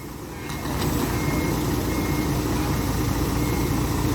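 An SDLG E6205F excavator backs up on a rubber-plantation clearing job, its reversing alarm beeping steadily under a loud, constant engine drone.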